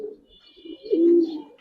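A Mushaldom pigeon gives a single soft, low coo, rising into a held note near the end, close and alone.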